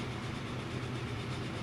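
An Atlantic train from Transport Fever rolls along with a constant deep rumble and soft clickety texture, steady and moderately quiet throughout.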